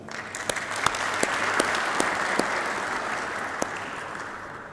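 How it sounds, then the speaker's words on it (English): An audience at a post-COVID resilience event claps for a discussion panel, a steady, fairly distant round of applause with a few sharper individual claps standing out. "please join me in giving a round of applause for a wonderful, wonderful panel and wonderful discussion"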